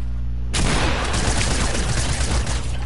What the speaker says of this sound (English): I'm gonna spam you with my SMG